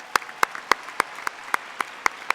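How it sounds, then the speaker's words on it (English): Applause from the audience at the Labour Party Annual Conference 2018 comes as sharp, evenly spaced claps that are loud and close, repeating in a steady rhythm. "we have to give a massive round of applause for all the young people who came to speak up today"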